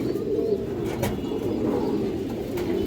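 Soft, continuous cooing comes from a pair of Chila pigeons close by, a steady low murmur with a few faint chirps over it and no voices.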